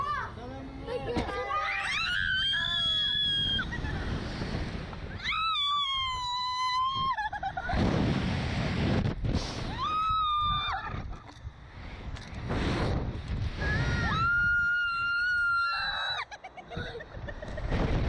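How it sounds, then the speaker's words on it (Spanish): Children shriek loudly on a ride or climbing spot, long piercing screams in several bursts mixed with adult and kid voices shouting nearby. "No pasa nada, solamente vamos a gritar."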